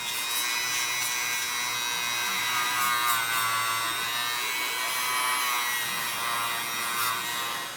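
A small power polisher whines steadily as it buffs a scratched plastic shifter indicator lens with rubbing compound, a continuous high motor hum close by with slight wavering, no talking.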